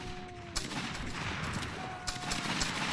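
Musket volleys crackle in a Roblox Waterloo battle between the 95th Rifles and the 33rd Regiment of Foot, a dense rolling fusillade with a couple of sharper nearby shots standing out over continuous distant gunfire.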